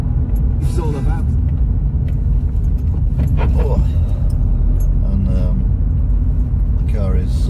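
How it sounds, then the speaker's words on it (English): A car that has sat unused for a while runs while driving, its steady low engine rumble and road noise continuous throughout, with a person talking over it. "The car is not been driven for a while. So it's kind of objecting to this."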